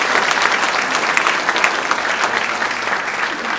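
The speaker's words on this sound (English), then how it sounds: "And can you please give a big round of applause to my 4 wonderful children?" Audience applause at a family values awards ceremony, a steady dense clapping from a crowd that fills the room evenly for several seconds, with no voices over it.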